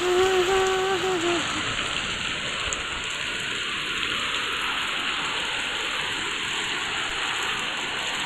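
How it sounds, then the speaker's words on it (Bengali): Steady rain pours down continuously, a dense broadband hiss with soft patter, close and even throughout, with a brief tone fading out at the start. "বৃষ্টি দারুণ"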